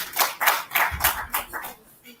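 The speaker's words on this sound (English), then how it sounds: "A round of applause for him, please." Several people clap at a press conference on GM crops in Nigeria, a short, sparse burst of distinct hand claps in an uneven rhythm that thins out and stops after about two seconds.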